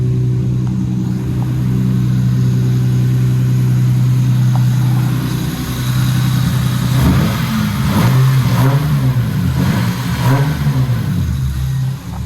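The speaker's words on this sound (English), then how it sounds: "Those are baby revs. That's probably like 15, maybe 2 grand. Sounds really good." A Toyota SC300 engine idles loudly up close, then revs gently a few times at low speed, around 1,500 to 2,000 rpm, the rumble rising and falling before settling back.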